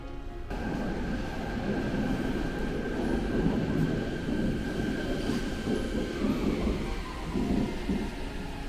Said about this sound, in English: Darating yung subway train ng 7 o'clock.